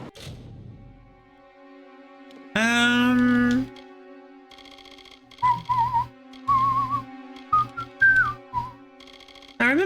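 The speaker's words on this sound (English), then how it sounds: "Oh yeah, this whistle!" A whistle from Kingdoms of Amalur: Re-Reckoning sounds as a long rising tone, then a run of shorter melodic whistled notes over a steady game music bed, with quiet typing-like clicks.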